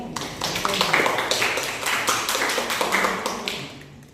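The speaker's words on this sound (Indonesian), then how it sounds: "Silakan beri aplaus kepada Beatrix." Classroom students give a short round of applause for a classmate, a dense burst of clapping that stays fairly loud for about four seconds and then tapers off.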